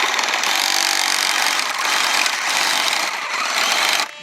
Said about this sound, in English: use a hacksaw, and this is a sawzall that's not really even accurate either